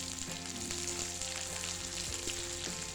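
Shallots and garlic fry in oil in a pan with a steady, close sizzle, accompanied by occasional faint stirring or scraping sounds and no talk.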